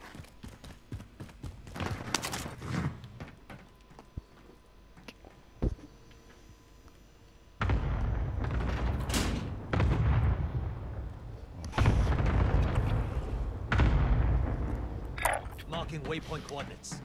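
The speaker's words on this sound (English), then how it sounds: "Be advised, friendly precision airstrike inbound." A precision airstrike in a video game sets off a series of heavy, booming explosions, a few scattered hits and then several big sustained blasts in close succession, with voices heard along the way.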